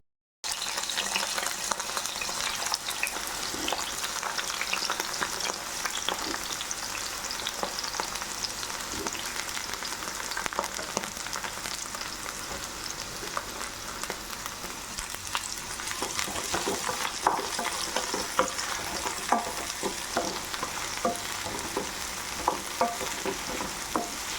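Eggplant frying in hot oil, a steady dense crackling sizzle that fills the whole stretch evenly and fairly loud, with occasional brighter pops and no voices.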